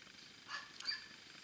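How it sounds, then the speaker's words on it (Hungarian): A neighbour's dog barks a couple of times in the distance, two short faint bursts against a quiet background. "Az én hangomat ugatja tehát"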